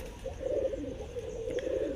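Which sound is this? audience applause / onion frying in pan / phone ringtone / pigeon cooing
pigeon cooing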